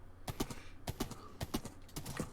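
Rhythmic hollow clip-clop of a skeleton horse's hooves in Minecraft, trotting in quick paired beats, close and fairly quiet.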